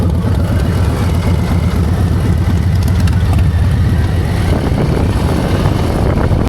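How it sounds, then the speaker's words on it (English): A Harley-Davidson motorcycle engine idling at low volume, a steady rumble with a continuous pulsing throb and no voices over it. "So we've gone from a very loud bike to a very quiet bike."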